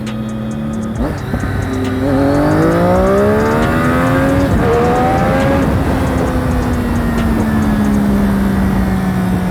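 A Triumph Daytona 675 motorcycle engine revving hard and pulling up through the gears, loud and close, pitch climbing and dropping with each shift before settling into a sustained high drone.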